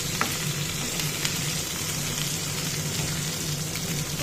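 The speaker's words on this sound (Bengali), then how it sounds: "আমি এখানে পটলটা এবার হালকাভাবে ভাজতে হবে, মানে একদম কমিয়ে কমিয়ে।" Pointed gourd (potol) frying gently in oil over low heat, a steady soft sizzle with faint crackles and a low hum underneath, no voices.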